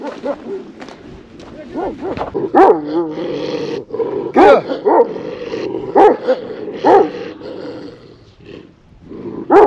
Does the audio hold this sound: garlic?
no